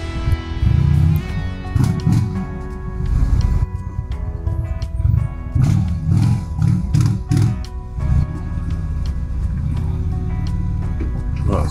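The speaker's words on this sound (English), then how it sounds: "Really heavy traffic here." Heavy road traffic heard from a motorcycle lane splitting through a jam, with a loud steady engine and wind drone, deep rumbles of passing vehicles and surging bursts close by throughout.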